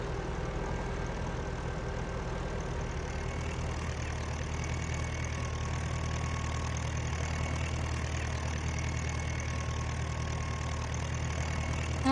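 A tractor engine idles in Farming Simulator 19, a steady low rumble with a faint knocking texture that holds at the same level the whole time, with no voices over it.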